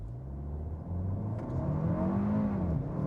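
A 2025 Kia K4 GT-Line accelerates hard on a level road. Engine pitch climbs steadily toward about 6,300 rpm as the note grows louder, heard from inside the car with no talking.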